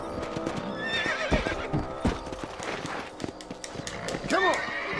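Horses in Red Dead Redemption clip-clop at a steady gallop, with a couple of clear neighs and whinnies rising above the hoofbeats and game noise.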